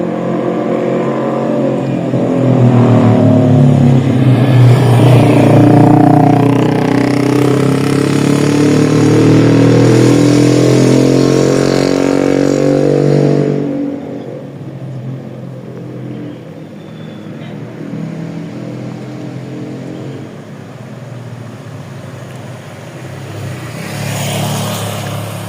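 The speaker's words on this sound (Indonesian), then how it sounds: "Ramai kendaraan, juga ramai" Busy road traffic with cars and motorcycles passing close, loud engine roar and revving that dominates for about fourteen seconds, then eases to a quieter background hum, with speech audible over it.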